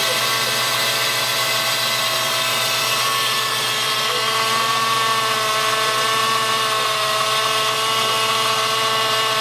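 A Fox body car with a swapped-in Coyote engine idles steadily nearby, its even rumble carrying a constant whine from the alternator and accessories, with no pauses or revs.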